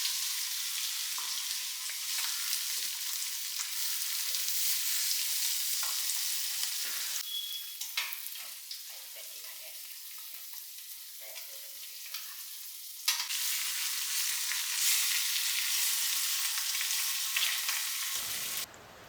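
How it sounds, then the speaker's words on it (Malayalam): Dried fish frying in a home kitchen pan gives a steady, loud sizzle with occasional stirring scrapes, continuous for most of the span before cutting off abruptly near the end. "പിന്നെ അത് കഴിഞ്ഞ് നമുക്ക് ഉണക്കമീൻ വറക്കാനുണ്ട്."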